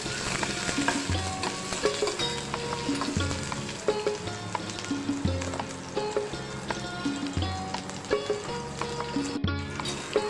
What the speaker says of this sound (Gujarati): કાંદા કટિંગ કરેલા છે તે એડ કરીશું। થોડા એવા જ આપણે સાતળવાના છે।